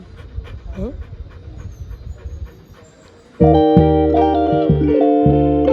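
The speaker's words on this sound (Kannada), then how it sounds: "ಈ ನಾಯಿ ನೋಡಿ ಗೈಸ್, ಕರೆದ್ರೂ ನೋಡೋದಿಲ್ಲ" A dog pants in quick, rhythmic breaths for the first few seconds, then a loud, sustained electronic tonal sound abruptly cuts in and drowns it out.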